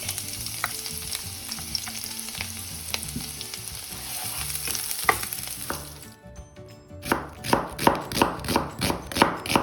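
Garlic frying in a pan, a steady bright sizzle with stirring scrapes for about six seconds, then a series of loud rhythmic chopping or tossing hits close by over the continuing fry.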